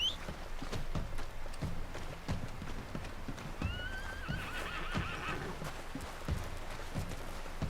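A horse in Red Dead Redemption 2 whinnies once with a rising-and-falling neigh midway, while hooves clip-clop in a steady irregular patter throughout, fairly close and moderately quiet, with no talking.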